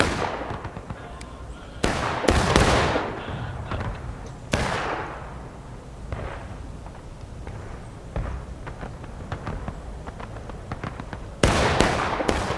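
Musket gunfire in the Civil War game War of Rights: several sharp, loud shots at irregular intervals, some close and some distant, echoing over a field, with quieter pops between them.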